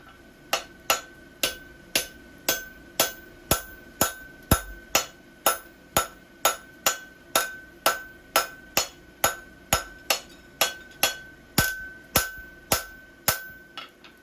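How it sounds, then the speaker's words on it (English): Hammer forging and bumping 1/4 inch steel bar: a steady series of about twenty sharp, ringing metallic blows at an even rhythm, close and loud, with no talking. "That's the hard thing about bumping 1/4 inch steel."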